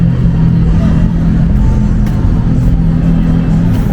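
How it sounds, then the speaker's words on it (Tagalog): Expensive sports cars drive along a city street in loud, continuous engine rumble with a steady low drone and occasional revs. "Kasi mga mahaling sports car pinapatakbo."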